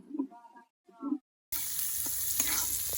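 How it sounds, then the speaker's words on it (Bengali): A voice speaks briefly, then a loud, crackling sizzle bursts out as chopped onions hit hot oil in a wok, continuing steadily, while cooking jackfruit with prawns. "এবার আমি কুচি করে রাখা পেঁয়াজ গুলো দিয়ে দিচ্ছি"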